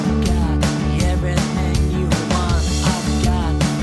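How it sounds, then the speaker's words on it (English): A demo song's bass guitar track plays a steady, loud groove of repeated low notes with regular accents, alone and with no voices. "The bass track at the moment sounds like this."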